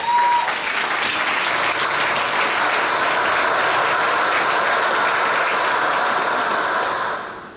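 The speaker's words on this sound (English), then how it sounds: "Give yourselves a round of applause." Steady, dense applause from a large crowd at an indoor commemorative celebration fills the whole stretch, loud and sustained before tapering slightly at the end.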